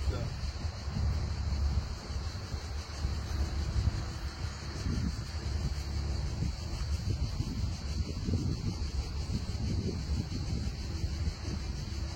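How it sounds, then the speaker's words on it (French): Strong wind sweeps across an open golf course, buffeting the microphone with a continuous low roar and rumbling gusts throughout. "un vent d'enfer"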